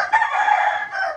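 A rooster, a fighting cock being weighed on a scale, crows once, loud and close, its harmonic call holding steady for about a second alone.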